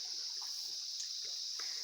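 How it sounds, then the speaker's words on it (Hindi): Spring water from the hills pours from a pipeline in a constant, close, hissing stream with light splashes. "ये पानी जो है हमारे पहाड़ से निकल रहा है, चट्टानों के अंदर से पानी आ रहा है।"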